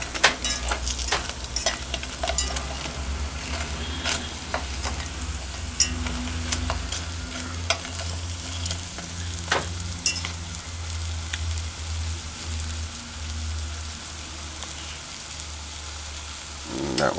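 Pieces of bammy fry in hot oil over high heat, giving a steady, close sizzle with scattered crackles and pops, and occasional faint scrapes as they are turned.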